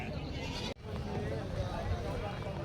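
Village goats bleat amid a busy livestock market in Parbhani, their calls mixed into a steady din of crowd chatter and talk, with a brief dropout partway through.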